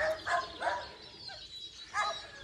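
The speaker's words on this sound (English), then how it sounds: "In the background, you can hear our dogs." Several dogs bark in the distance at a lakeside sculpture garden, a few faint yelps and barks in a short irregular burst over quiet outdoor ambience.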